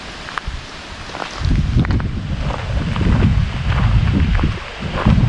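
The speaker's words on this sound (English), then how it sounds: "It's really windy out here." Strong wind buffets the microphone outdoors at Staircase Campground on Cushman Lake, Washington, with a continuous roaring rumble, gusting louder after the first second, with faint rustling and occasional knocks.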